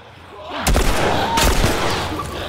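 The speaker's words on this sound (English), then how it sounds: "Shotgun!" Two loud, close shotgun blasts in the video game The Last of Us Remastered, about a second apart, each with a sharp boom and a ringing tail.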